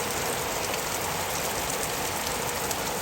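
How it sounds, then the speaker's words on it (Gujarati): Heavy rain pours down steadily across Patan district, a dense, even hiss of downpour close by and loud throughout, with no voices. "લાઈવ વરસાદ પાટણ જિલ્લામાં"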